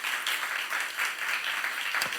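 A church congregation claps steadily, a dense patter of applause filling the short stretch without pause.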